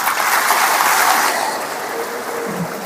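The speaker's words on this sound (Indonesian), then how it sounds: "Mari kita aplaus untuk Romo John." An audience at a parish 75th-anniversary diamond jubilee launch applauds Romo John, a steady, full round of clapping from a large crowd that holds through the clip and eases slightly toward the end.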